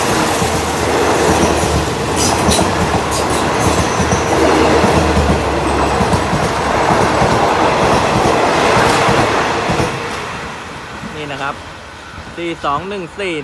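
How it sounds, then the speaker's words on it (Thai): Alsthom 4214 diesel locomotive hauling express train 84 from Trang toward Bangkok as it passes under an elevated overpass: a loud, continuous rolling rumble with clattering wheels that eases off near the end, leaving some squealing metallic tones. "อันต้อมนะครับ ทำขบวนด่วนที่ 84 นะครับ ต้นทางตรังนะครับ ไปทางกรุงเทพนะครับ กำลังลอดสะพานยกระดับนะครับ"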